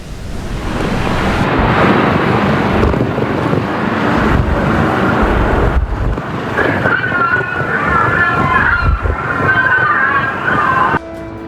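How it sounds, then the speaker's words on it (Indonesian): A strong lodos wind storm in Istanbul: a loud, rushing roar of wind and churning water across several abrupt cuts, with a harsh whistling tone in the later part. "Fenomena angin lodos yang bertiup kencang memicu badai dahsyat"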